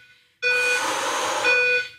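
An electronic timer beeps during a stability ball workout, giving one loud, steady, sustained tone that runs for about a second and a half before cutting off.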